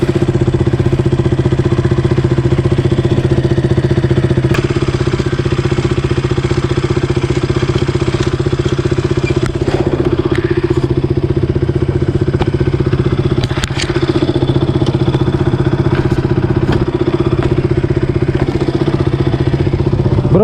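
A KTM RC motorcycle engine runs steadily just after starting, a loud, close, continuous mid-pitched idle drone with light mechanical clatter and occasional faint knocks throughout.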